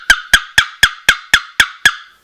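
A wooden turkey box call scraped in a sharp series of eight evenly spaced yelps, loud and close, each ending in a quick fading rasp, with no other sound around it.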